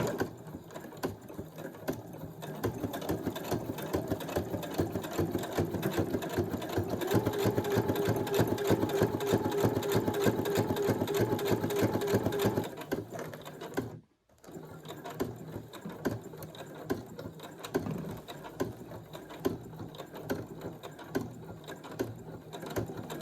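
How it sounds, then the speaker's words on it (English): A sewing machine stitches netting onto a journal card, a fast, steady mechanical chatter running continuously and close, pausing briefly with a sharp break before starting up again at a slightly lighter pace. "I'm gonna sew this."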